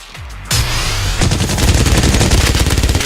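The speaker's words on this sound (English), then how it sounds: "Here I go, shooting against these evil robots" Loud, rapid automatic gunfire from the video game Meltdown as the player shoots evil robots. It starts abruptly after a brief quiet moment and continues as dense, sustained bursts.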